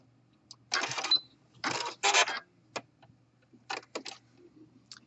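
Home sewing machine stitching an exposed elastic waistband in short separate bursts, each a fast mechanical rattle of the needle, with quiet pauses between runs and no voices.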